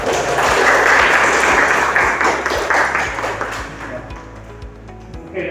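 Classroom applause after a student's math presentation at a teaching performance test, a dense spread of hand claps loud at first and fading toward the end, with some murmuring voices mixed in.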